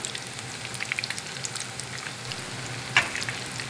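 Clam fritters, New England clam cakes, sizzle steadily in a hot pan of oil, a continuous close frying crackle with scattered pops and one sharper spatter near the end, no voices.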